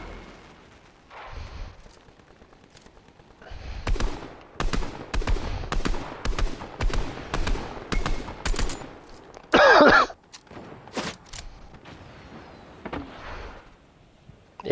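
Bursts of rapid gunfire in the video game Fortnite, several volleys of loud shots spread across the span with a harsh blast near the middle, some quieter pops between them and no talk.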